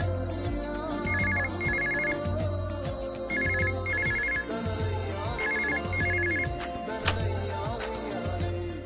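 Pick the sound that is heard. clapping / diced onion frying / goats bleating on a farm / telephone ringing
telephone ringing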